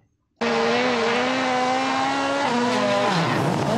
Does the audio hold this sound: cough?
no